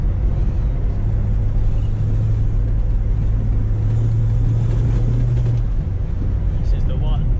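A 1968 Ford Mustang's engine roars steadily and loudly while being drift driven, a deep constant rumble heard from inside the car, with voices talking over it.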